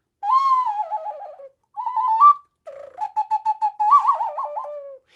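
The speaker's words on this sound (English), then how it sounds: "I can actually make it really sound like an owl. These are made from clay." A warbling, owl-like hoot from a clay whistle, played in several bursts of wavering tones with quick repeated toots, close and fairly loud.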